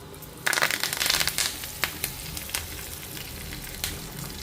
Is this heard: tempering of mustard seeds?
yes